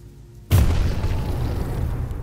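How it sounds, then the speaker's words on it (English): A bomb blows up in the video game Choo-Choo Charles: one sudden loud blast after a quiet moment, followed by a sustained rumbling roar that slowly fades, with no voices over it. "I'm just bombing everything down here"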